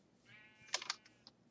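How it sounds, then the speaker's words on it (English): A sheep in the Minecraft video game gives a short, nasal bleat with a quick wavering pulse, clear and near over a quiet background, then a faint click. "I see a sheep still alive."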